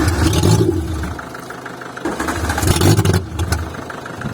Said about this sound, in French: Le moteur a démarré. Je vous mets la vidéo.